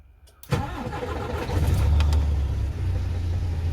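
A combine harvester engine catches after a moment of quiet, then settles into a loud, low, steady rumble that swells and holds nearby.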